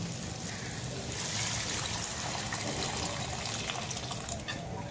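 Soaked tamarind water pours steadily into a pot of homemade sambar, a soft continuous trickling splash that runs without a break and with no voices over it.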